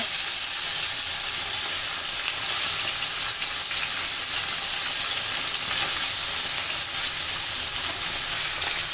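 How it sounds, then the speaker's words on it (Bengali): Bele fish, salted and coated in turmeric, fries in hot oil for a dish with potatoes, giving a steady, loud, close sizzle and crackle that holds evenly throughout with no talking. "বেলে মাছগুলো তেলের উপর দিয়ে দিয়েছি। এবার এগুলোকে হালকা করে ভেজে নেব।"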